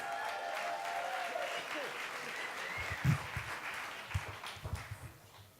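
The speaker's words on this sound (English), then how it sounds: "Big round of applause for our next storyteller, Catherine." Applause from a storytelling slam audience welcoming the next teller, a steady wash of clapping with some voices and whoops rising over it, tapering off toward the end.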